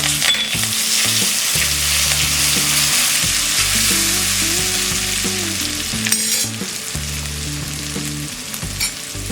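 Crushed ginger, turmeric and eight to ten curry leaves sizzle loudly in hot oil in a pan, a steady bright hiss with a spoon scraping and stirring throughout over faint background music.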